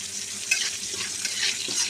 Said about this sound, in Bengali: আর এতে আমি দেবো আজকে রাঁধুনি ফোড়ন, রাঁধুনি, আর দুটো কালো জিরে দেবো।